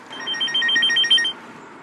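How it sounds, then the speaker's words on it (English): A mobile phone rings with a repeating electronic tone in short pulsing bursts, clear and close for just over a second before cutting off, with no talk over it. "Is that your phone ringing?"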